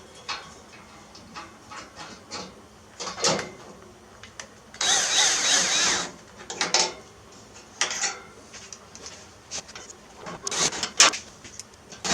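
Power drill boring a hole through the firewall of an S-10 pickup fitted with an LT1 V8, heard as a one-second whine amid scattered clicks, knocks and handling noises, fairly close and with no speech.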